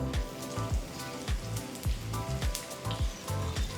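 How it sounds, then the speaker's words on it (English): Mustard seeds and halved red chillies crackle in hot oil on a low flame, a close, quiet bed of sizzle broken by rapid, irregular pops and spits. "roast them lightly till the mustard seeds begin to splutter"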